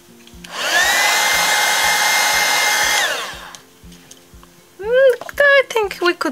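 A hair dryer blows steadily and loudly for about two and a half seconds while drying a coffee-stained art journal page, then switches off, and a voice speaks afterward.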